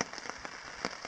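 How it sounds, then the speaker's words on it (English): Light rain pattering on a tarp at a Boundary Waters lake campsite, close and distinct drops tapping irregularly over a soft hiss. "it varies between drizzle and light rain"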